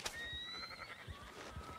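A horse in the Red Dead Redemption video game whinnies in a short, high, wavering neigh near the start, followed by low thumping sounds and a soft background game ambience.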